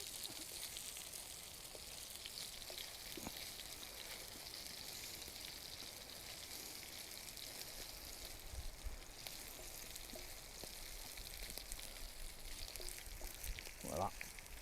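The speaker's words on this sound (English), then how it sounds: "They're cooking nice, all them, aren't they?" Food sizzling over a campfire in the woods during light rain, a steady broadband crackle and hiss running throughout with a few soft knocks and a brief louder rustle near the end.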